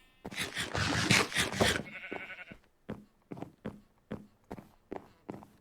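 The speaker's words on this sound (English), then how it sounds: "I heard the sheep." In a video game, a sheep gives a loud, drawn-out bleat up close, followed by a run of evenly spaced footstep thuds.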